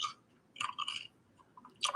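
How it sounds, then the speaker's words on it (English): Someone crunches and munches food up close. Quiet crisp chewing bursts come in a few short clusters with pauses between them, and no voices. "My brother crunching and munching"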